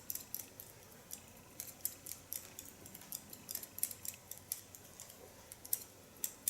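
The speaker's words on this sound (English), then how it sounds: "At the upper lines I create a point cut technique in a freehand style." Steel hair scissors snip repeatedly in quick, light, irregular cuts as hair is point-cut freehand on a short undercut style, close and quiet with no talking.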